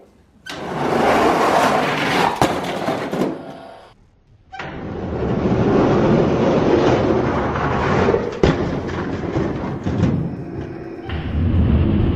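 Die-cast toy monster trucks race down a toy track, their plastic wheels rolling in two loud, close bursts of rattling rumble separated by a short quiet gap, with a few sharp knocks and no talk.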